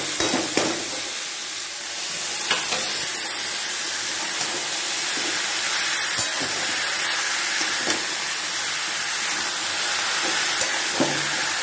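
Boiled banana flower stirred into spice masala sizzling in a pan, a steady broadband frying hiss throughout with a few soft knocks of stirring, close and even, no talk.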